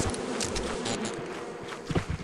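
A swarm of bees from a beehive in the video game Lethal Company buzzes loudly and close, a dense continuous hum with faint scuffing footsteps underneath and no talk.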